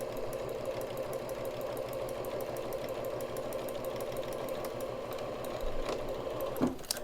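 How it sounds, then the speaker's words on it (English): A sewing machine stitches a fabric face mask in a steady, fast mechanical whir, close and moderately quiet, with a brief louder clunk near the end. "now I've got both sides of my mask sewed now"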